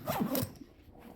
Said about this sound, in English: These zips look like they're pretty hard wearing zips.